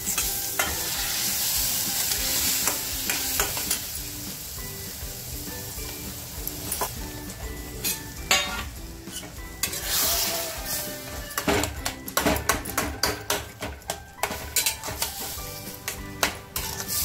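Mutton masala frying in a pan with coriander, a continuous sizzle under repeated scraping stirs and clinks of a spoon against the pan, close and steady throughout.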